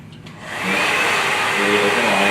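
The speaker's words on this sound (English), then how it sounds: "We'll do our magic with the hair dryer." A hair dryer switches on and blows steadily on a foam and latex prosthetic, with a loud, continuous whooshing roar and a faint high whine.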